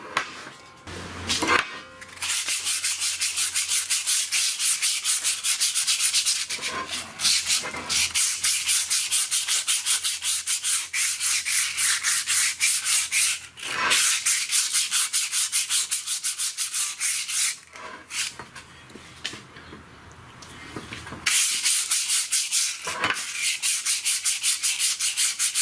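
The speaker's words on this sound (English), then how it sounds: "We need to rough these up a little bit on over here, the parking brake surface." A brake pad surface being roughed up by hand on a 2008 Ford Edge gives repeated bursts of close, scratchy sanding and rubbing strokes, with brief pauses between runs and no talk.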